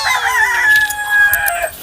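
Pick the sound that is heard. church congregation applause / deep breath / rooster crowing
rooster crowing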